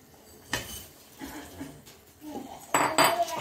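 Maggi noodles with vegetables go into a pan and are stirred, with metal utensil clinks and scrapes against cookware, quiet shuffling between them and a louder burst of clattering near the end.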